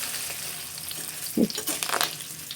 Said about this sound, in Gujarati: જો આપણે લીમડાના પાન છે ને આ તરાતા હોય ને એમાં નાખી દઈએ ને એટલે તરાઈ જાય.